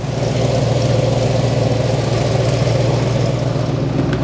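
A 1970 Oldsmobile Cutlass engine idling on a cold start, steadily and loudly up close, a constant low rumble with a rhythmic throb that never changes pace.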